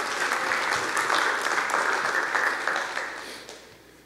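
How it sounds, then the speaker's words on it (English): A church congregation gives a round of applause, a dense burst of clapping that stays strong for a few seconds and then fades away. "Give Penny a big round of applause."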